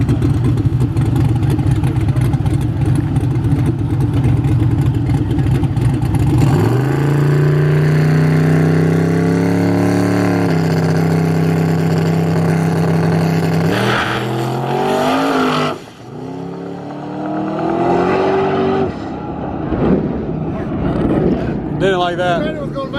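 A daily driver car pulling hard in a drag race, engine droning loud then rising through gears with a sharp shift, a brief dropout and renewed climb, close and dominant with muffled voices underneath.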